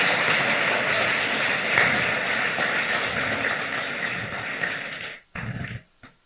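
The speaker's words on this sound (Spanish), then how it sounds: "Dale palmas al Señor." A congregation at a Spanish-language church service claps in a dense, steady burst that fades toward the end and breaks off into a few short, scattered sounds.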